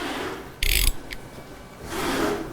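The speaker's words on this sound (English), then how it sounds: "take the top and bottom shock mounting bolts out with a 13mm socket" A ratchet with a 13mm socket works on the top and bottom rear shock mounting bolts of an enduro motorcycle, giving a short loud burst of clicking followed by a brief click and later a softer scraping rasp, with no talk.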